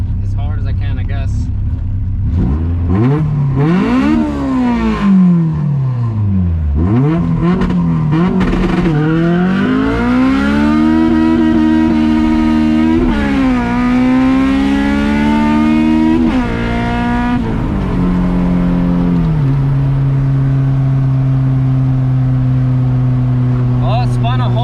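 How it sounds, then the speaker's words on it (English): An all-motor Honda CRX with a B17 engine launches hard off a two-step rev limiter on new tires with lots of wheelspin. The engine roars loud and close, its pitch climbing and dipping repeatedly before settling to a steady drone. "we're gonna send it 2-step, and I'm just gonna launch it as hard as I can"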